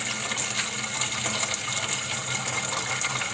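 Room-temperature water pouring into a cooking pot, a steady bright hiss and splash of running liquid that continues evenly and close by without pause.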